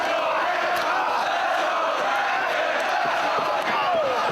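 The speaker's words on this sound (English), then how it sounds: "This crowd getting behind both of their athletes" A loud, dense wrestling arena crowd roars continuously through a Bryan Danielson versus KENTA match, a steady wash of cheering and shouting with scattered sharp impacts.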